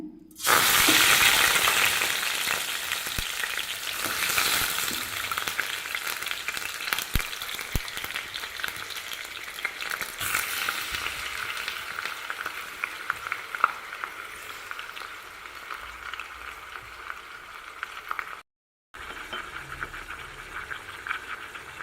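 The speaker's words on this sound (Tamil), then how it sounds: "கொஞ்சமாக எண்ணெய் ஊற்றிருக்கேங்க இதில் கறியை சேர்த்துக்கலாங்க" Chicken pieces frying in a small amount of oil for a chicken gravy, a steady loud sizzle running throughout with no talking, broken only by a brief gap near the end.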